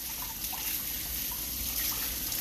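Tap water runs steadily into a kitchen sink during handwashing, a soft continuous trickle and splash at close range with no talking.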